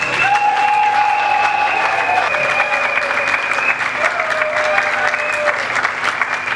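An audience at a church ceremony applauds as a dignitary steps up, a dense, sustained clatter of many hands clapping that holds steady, with a faint voice and sustained tones running underneath.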